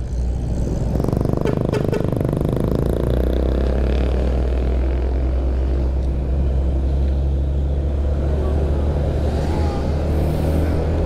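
Car engine rumbling steadily on a road in Lawang, Malang, a deep continuous low drone with road noise, loud and close throughout, with no talk.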